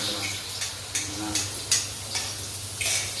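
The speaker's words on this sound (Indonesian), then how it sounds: "Dan lanjut lagi menggoreng yang kali keduanya" Food sizzles in hot oil during a second round of frying, a steady crackle broken by about eight sharp clicks of a utensil stirring against the pan, close and fairly loud with no talking.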